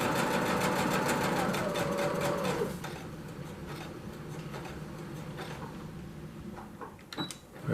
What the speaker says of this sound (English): Make a forward stitch and a back stitch,